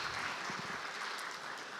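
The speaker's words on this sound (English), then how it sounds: "Can we give him a resounding round of applause?" Audience clapping in a hall at an agriculture dialogue session, honoring Chairman Lee; a brief, fairly faint burst of steady applause lasting under two seconds.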